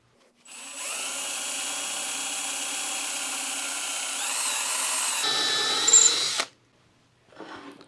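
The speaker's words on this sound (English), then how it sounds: "we're going to drill a hole in the bottom of our stem" A power drill whines steadily for several seconds boring a quarter-inch hole into a scrap wood stem, its pitch shifting slightly as it bites, then stops; a brief fainter whir follows.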